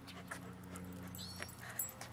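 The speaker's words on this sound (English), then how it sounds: "there's another dog right here" A dog whimpers in short, faint bursts while out on a walk near another dog, with a low steady hum running underneath.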